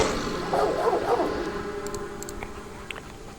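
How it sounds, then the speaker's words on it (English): A dog in the game Angelica Weaver: Catch Me When You Can gives a short burst of yelping barks up close, then falls quiet against a low background hum with a few faint clicks. "Get out of here, dog."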